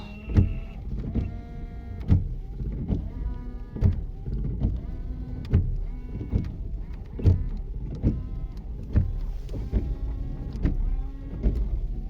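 Windshield washer pump motor in an Opel Frontera, switched on with the ignition, whirring in repeated surging pulses roughly every second over a steady hum, close up with no talking.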